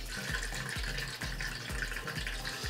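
Water gurgles and drains through an opened valve on a Rowa Phos reactor in an aquarium setup, a steady close flow with a rhythmic pulsing churn and no voices.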